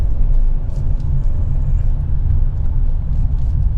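Hyundai i20 N-Line hatchback on the road, a steady low engine and road rumble heard from inside the cabin, continuous and fairly loud with no talking.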